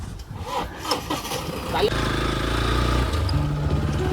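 A tempo's engine starts and settles into a steady mid-pitched idle on a rural road under construction near Matheran, low and continuous behind earlier background voices.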